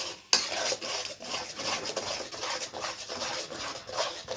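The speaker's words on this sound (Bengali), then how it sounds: "এই টমেটো পেস্টটা একটু নাড়বো" Tomato paste stirred with a little salt in a pan while making jelly/jam, a steady scraping and rubbing of the utensil against the pan in repeated strokes, close and moderately quiet, with one sharp clink near the start.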